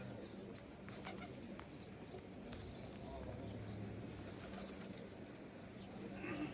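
Many pigeons in a big loft in Kuwait coo steadily at close range, a dense bed of bird murmuring that runs through the whole stretch with faint voices and soft background bustle.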